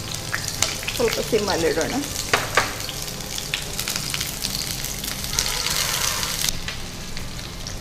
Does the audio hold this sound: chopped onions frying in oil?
yes